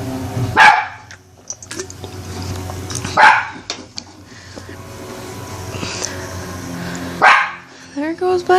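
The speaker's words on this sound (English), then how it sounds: "barking at nothing" A dog barks in sharp, loud bursts, three distinct barks spaced a few seconds apart with a short yip-like flurry at the end, indoors at a house, with talking around them.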